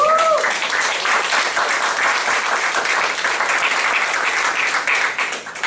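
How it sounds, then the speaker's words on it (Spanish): A church congregation at a Spanish-language service bursts into loud, full applause that keeps a steady pace for several seconds before tapering slightly at the end. "Denle un aplauso a Jesús."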